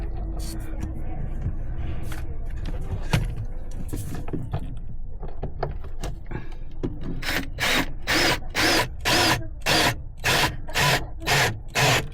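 Power drill driving a screw into wood while fitting an electric hook-up, first soft rubbing and handling noise, then a series of about ten short, loud, evenly spaced bursts from the drill near the end.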